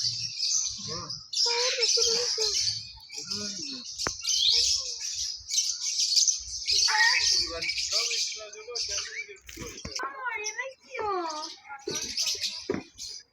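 Parrots and other birds chirp and call continuously in a zoo aviary, bright overlapping tweets and whistles close by, with people talking softly underneath.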